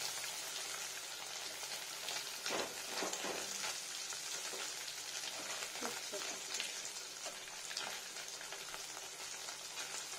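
Paneer cubes fry in a hot pan over lowered heat, giving a steady, dense sizzle with a few brief bursts of crackle, close and continuous throughout.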